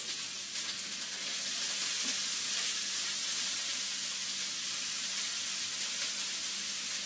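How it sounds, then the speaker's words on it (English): Carrots and mushrooms stir-frying in a pan on a home kitchen stove give a steady, close sizzle and hiss that runs without a break and with no voices over it. "Remember, this is a stir fry."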